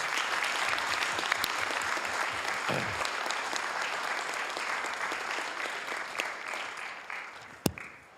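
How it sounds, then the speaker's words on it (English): A city council meeting audience gives a long, dense round of clapping, steady and fairly loud throughout with a sharp single clap near the close as it thins out. "let's give all of them a big round of applause"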